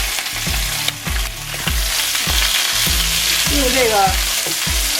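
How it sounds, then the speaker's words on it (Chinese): Shiitake mushrooms fry in rendered pork fat in a wok, a loud, steady sizzle broken by regular scraping strokes of a spatula stirring the pan, with a brief remark spoken over it. "煸出来的油来煸香菇，香菇的香味已经出来了"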